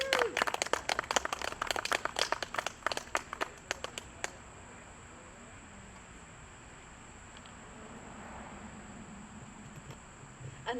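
Clapping at an outdoor Porchfest concert, a burst of audience applause for several seconds that thins to scattered claps and fades into quiet ambient noise.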